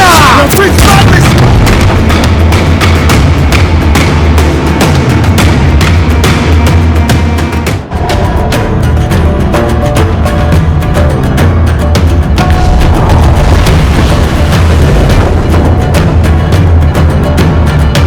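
Broadside cannon fire from a ship in Assassin's Creed Black Flag, a sustained loud barrage of deep booms and rumbling blasts that briefly drops out before the volley thunders on.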